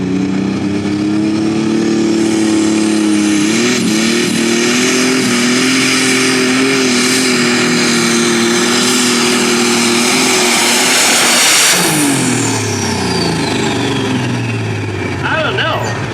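A light limited pro stock truck or tractor roars at sustained high revs during a sanctioned pull at the 2024 Logan County Fair, loud and continuous before the pitch drops off late, with an announcer talking over it.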